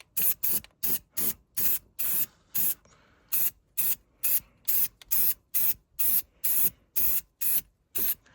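Aerosol spray paint applied to a repaired, welded tractor bucket in rapid rhythmic bursts, about twenty short even hisses in steady succession with one brief pause, close and loud, no talking.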